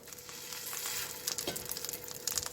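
Impossible Burger patties sizzle and fry in a pan with olive oil and butter, a steady close hiss with crackling pops and spatters rising toward the end, no voices.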